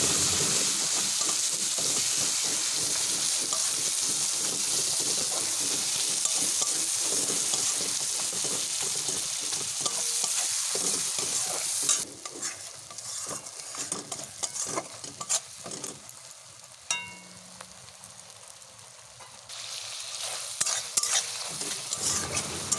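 Chopped onions sautéing in a pan for a pumpkin, Malabar spinach and prawn dish, a loud dense sizzle with rhythmic stirring scrapes that drops to a quieter, patchier fry about halfway through.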